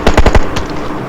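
Grenade blast in PUBG Mobile: a rapid series of four or five loud, close, crackling bangs, then one more burst and a fading rumble, with no talk.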